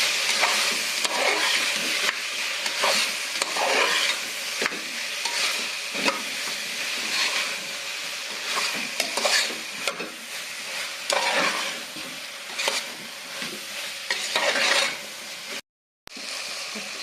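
Chili and coriander powder being stirred into biryani masala in a pan: a steady frying sizzle broken by repeated scraping strokes of a spoon, close and fairly loud, with a brief cut near the end.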